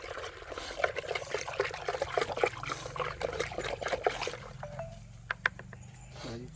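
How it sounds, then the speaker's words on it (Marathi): Water trickles and pours steadily as bleaching powder (TCL) solution is strained to settle out the lime for purifying drinking water, a close continuous dribble that thins out near the end with a few small splashes. "त्याचं आपण गाळ करून ते पाणी आपण शुद्धीकरणासाठी वापरणार आहोत."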